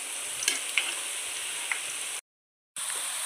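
Ground tamarind paste fries in oil in a home kitchen while making a bitter gourd pickle, giving a soft continuous sizzle with a few light stirring taps before a brief dropout, then the faint sizzle resumes.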